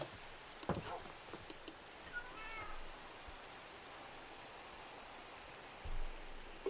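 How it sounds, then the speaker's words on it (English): Soft, steady rainfall in Minecraft, a continuous faint hiss with a few brief clicks and thumps, and a short burst of talk near the end. "Hopefully the rain goes away."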